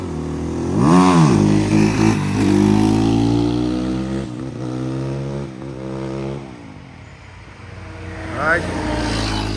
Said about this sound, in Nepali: अहिले चाहिँ दोस्रो मेरो बाइकको ट्राई हान्दैछन्